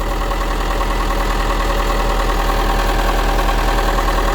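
Mercruiser diesel engine on a Sea Ray 240 boat running at a slightly raised idle, a loud, steady, continuous rumble heard up close with no talk.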